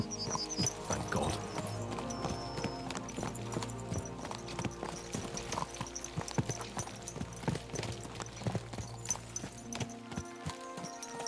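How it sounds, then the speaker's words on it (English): Horses gallop in the medieval game Kingdom Come: Deliverance 2, hooves clip-clopping in quick rhythm under a steady musical score, with a brief whinny mixed in. "Let's really spur these horses on, eh?"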